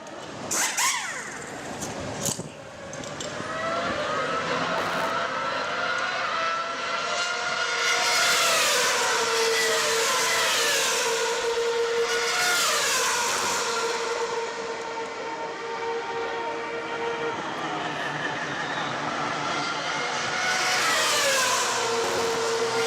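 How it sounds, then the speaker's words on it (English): A 2013 Ferrari Formula 1 race car in the pits, its loud engine roar rising and falling with shifting whine and rumble, steady and close for most of the stretch with a brief burst at the start. "And I want to show you how fast they pit a car in 2013."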